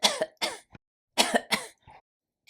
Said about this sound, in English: you have a cough this morning.